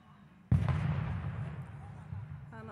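A sudden deep boom erupts, then a long rumbling roll that slowly fades, like distant fireworks going off outdoors.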